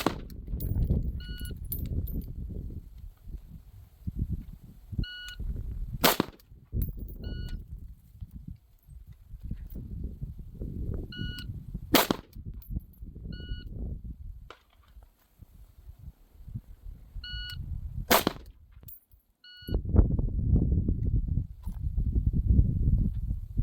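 Patrol rifle shots ring out during a Texas SWAT shooting drill: three sharp, isolated cracks spaced about six seconds apart over a low rumbling, shuffling background.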